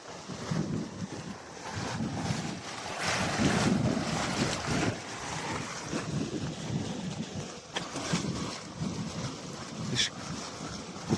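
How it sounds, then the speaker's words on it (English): Water rushing over a weir at a wetland nature reserve, a continuous broad roar of flow mixed with gusty wind buffeting the microphone, fairly close and steady. "It's like a weir type thing, I think."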